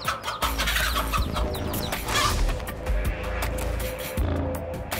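A mother hen clucks agitatedly while defending her chicks, with several bursts of fowl calls over a busy outdoor backdrop with some mixed noise.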